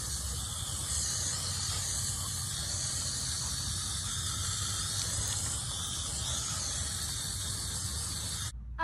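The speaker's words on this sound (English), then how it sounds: "I'm gonna hose the fish off really quickly." A garden hose sprays water over a whole flounder in a steady, close, unbroken hiss that runs for several seconds and cuts off abruptly at the end.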